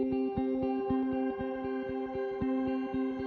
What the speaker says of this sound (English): use a reverb that has a shimmer to create a cool effect there